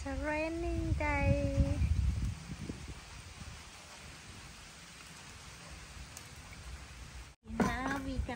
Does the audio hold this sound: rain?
yes